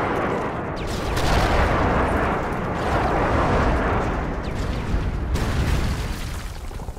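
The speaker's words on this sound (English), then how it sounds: "Friendly airstrike on the way." Friendly airstrike in Call of Duty MW3, a dense, continuous roar of overlapping explosions and gunfire rumbling loudly without letup, with no voices.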